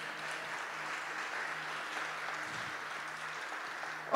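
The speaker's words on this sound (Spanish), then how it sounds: "Le damos palmas al Señor por esto." A church congregation applauding, a steady wash of many hands clapping evenly for several seconds, fairly distant and diffuse, ending with one louder nearby clap.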